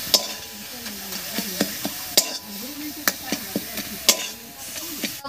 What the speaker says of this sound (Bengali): লবণ দিয়ে নাড়িয়ে নিয়েছি